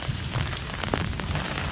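Rain patters and hisses steadily on surfaces at night beside backyard beehives, a dense continuous wash of noise with a few sharper drops and bumps, close and moderately loud.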